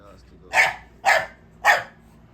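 Three evenly spaced, loud dog barks close by, each a short sharp burst about half a second apart, with quiet in between.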